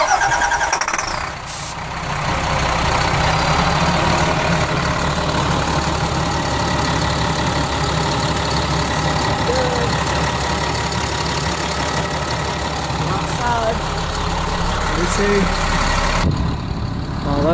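A Caterpillar C7 diesel engine in an RV cranks, catches and settles into a steady, loud idle. A deep, constant rumble continues to near the end, then cuts out abruptly.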